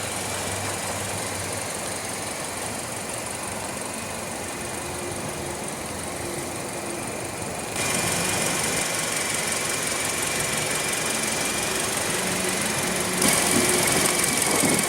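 The 1.8-liter inline four-cylinder engine of a 2016 Hyundai Elantra idles steadily under the open hood, a close, even hum with a faint ticking rhythm that grows slightly louder partway through.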